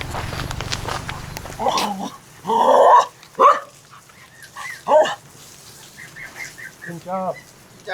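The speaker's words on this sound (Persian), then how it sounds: "پر سگ اینجا لامصب. پر سگه." Several dogs bark on a street in Hanoi, sounding as repeated, uneven bursts at varying distances, some loud and near, others fainter. Street noise fills the background and brief voices come through at the start.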